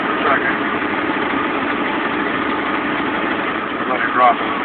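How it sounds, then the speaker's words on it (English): Heavy truck engine with a 9-speed manual transmission pulling a heavy load in the mountains, steady loud droning close by, with the revs briefly rising as it is shifted out of gear and back in. "pull it out of gear, rev it up, and in gear, but it's a fluid motion"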